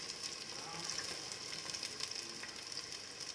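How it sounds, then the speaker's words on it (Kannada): Chopped onions, ginger and garlic fry in a pan for Indian-style egg fried rice, giving a steady, close sizzle with faint crackles throughout. "ಇದಕ್ಕೆ ಇವಾಗ ನಾನು ಈರುಳ್ಳಿ ಹಾಕ್ತಿರೋದು"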